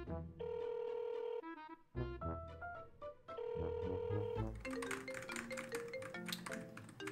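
A phone rings through a melodic ringtone with bright, repeating tones that carry on steadily for several seconds over backing music.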